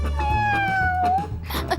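A cat meows once in a long, drawn-out, falling cry, close and fairly loud over low background murmur, with brief voices and noise following.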